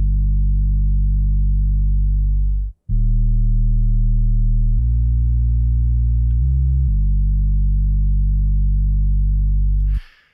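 A deep, smooth melodic house synth sub bass with a long release plays a few long sustained notes in sequence, the final note fading gradually rather than stopping abruptly.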